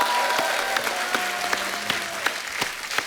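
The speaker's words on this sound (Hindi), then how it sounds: "जोरदार तालियां हो जाए एक बार अमित जी के लिए." A television comedy studio audience applauds a guest, a steady wash of clapping with a few louder individual claps standing out, moderately loud and brief, with faint music tones underneath.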